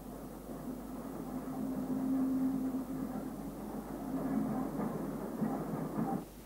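Steam train Number 25 Godshill on the Isle of Wight branch line, a steady low rumble of the locomotive with a faint sustained tone, fading slightly then cutting off, no voices.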